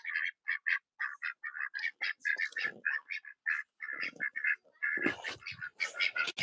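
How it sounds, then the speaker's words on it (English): A duck quacks in a rapid run of short, nasal calls, close and loud, with a couple of flutters or splashes near the end. "Hi, duck, duck, duck, duck."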